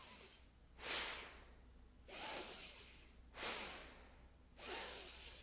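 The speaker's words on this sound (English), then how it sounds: "it's a form of yogic breathing in a Kundalini variation" Kundalini-style yogic breathing: four slow, steady cycles of forceful breath pushed through the nose, each a soft airy whoosh with brief pauses between, close and quiet with no talking.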